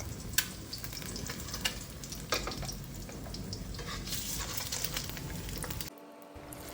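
Scrambled egg frying in a nonstick wok pan, a steady close sizzle with faint stirring scrapes that cuts off abruptly near the end.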